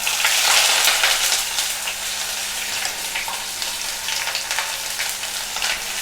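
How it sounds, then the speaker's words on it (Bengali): Half a cup of chopped onion frying in hot oil for Bengali chola bhuna, a close, steady, dense sizzle that stays loud and even throughout, with no talk. "আমি এখন এই তেলের ভিতর 1/2 কাপ পেঁয়াজ কুচিটা দিয়ে দিচ্ছি।"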